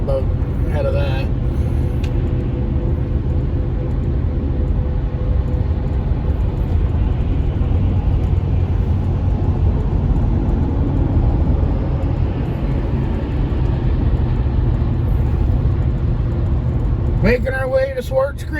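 Interior of a big-block Chevy Blazer creeping south on Interstate 75 in slow weekend traffic, a steady low engine and road rumble that holds loud throughout, with brief higher noises at the start and end.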